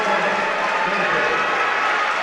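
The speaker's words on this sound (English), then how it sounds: "Even Coach Rushton applauding that one over here" Applause from a high school volleyball crowd and bench after a rally in a Lebanon versus Frankfort match, a dense steady clatter of hands filling the gym at close range with no pause.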